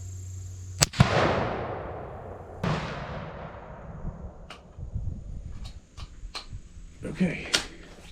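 A .257 Weatherby Magnum rifle fired at a target on an outdoor range: one sharp, loud report followed by a long echo, then a second shot, with people talking around it.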